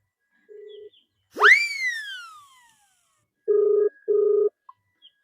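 A phone ringing tone, with short electronic beeps separated by silence and a rising whistle-like chirp between them, clear and alone.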